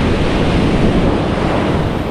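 Ocean waves washing onto a beach where fishermen haul a net, a dense, continuous roar of surf with wind buffeting the microphone.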